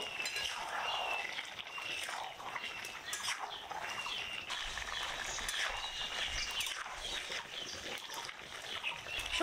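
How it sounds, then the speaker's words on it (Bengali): Malabar spinach stems simmering as a curry in an uncovered pot, with steady clinks of a utensil scraping and stirring against the metal over a soft bubbling hiss, close and continuous. "এবার ঢাকা খুলে নেড়ে চেড়ে দিব।"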